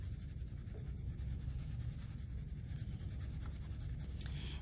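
Pencil shading on paper for a cartoon drawing, moving from hard to medium to light pressure, gives a steady, continuous close scratching and rubbing that carries on without a break.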